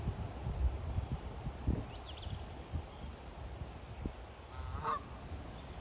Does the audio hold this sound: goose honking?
yes